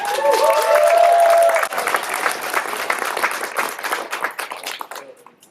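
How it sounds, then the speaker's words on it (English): An audience at a school ribbon-cutting gives a principal another round of applause, loud and close at first, then gradually thinning into scattered claps before dying away. "let's give her one more round of applause"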